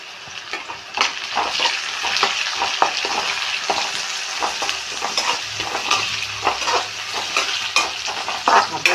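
Curry leaves fry in hot oil in a pan for a thorngully-style dish of jackfruit seeds and drumstick leaves, crackling and sizzling steadily while a spoon stirs and scrapes throughout, loud and close with no talking.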